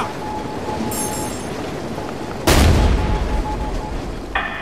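A frag grenade bursts in a single sharp, loud blast with a rumbling tail during a Ghost Recon Future Soldier tournament match in Decoy mode, after quieter faint game ambience.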